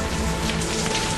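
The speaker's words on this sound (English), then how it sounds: "It's raining, obviously." Rain falls steadily at night in Dhaka, a continuous close hiss of drops striking surfaces, brief and unbroken with no voices.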